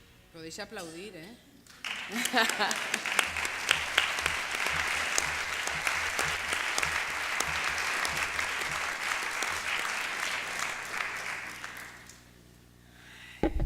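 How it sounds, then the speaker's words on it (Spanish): An audience at a forum on Christianity and popular movements breaks into loud, sustained applause lasting about ten seconds before fading, with a brief voice and some musical tones just before the clapping. "Podéis aplaudir, ¿eh?"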